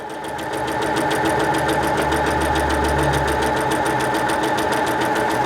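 Husqvarna Viking Onyx 30 sewing machine stitching stretchy fabric, a loud, steady rapid mechanical whir with an even needle clatter that runs without a break.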